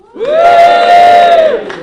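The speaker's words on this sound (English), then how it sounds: "Give a little cheer, everyone." About thirty people in a cafe raise a loud, sustained cheer together for a birthday celebration, one bright shout holding for over a second before trailing off.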